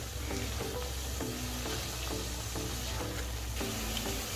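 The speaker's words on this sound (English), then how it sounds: "going to carry on doing that and mixing until the oil rises at the top" Spices frying in oil for a fish curry are stirred over medium flame, a constant sizzle broken by regular scraping strokes of the spoon about twice a second, close and loud with no talk.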